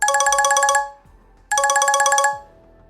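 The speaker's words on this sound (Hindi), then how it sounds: "इधर अर्थ के फोन पर लगातार उसके दोस्त कबीर का कॉल आ रहा था।" A mobile phone ringtone for an incoming call plays a bright, rapidly repeating chime in two loud bursts separated by a short pause.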